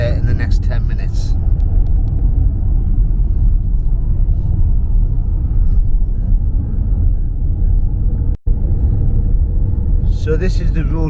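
A car travels along a country road toward a high-altitude coffee plantation in Australia, steady low engine and tyre rumble filling the cabin, with brief voices near the start and end.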